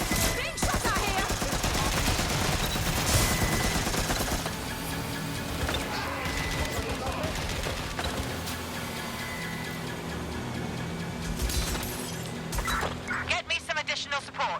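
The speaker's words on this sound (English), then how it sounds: "Being shot at here!" Gunfire from the video game Watch Dogs Legion rattles through a dense, loud game mix, with shots layered over music and effects and voices talking throughout.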